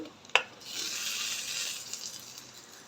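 Chopped tomatoes dropped into a hot pan of browned seasoning for khichdi, a sharp clatter followed by a steady, hissing sizzle that rises and holds, then slowly eases, close and fairly quiet.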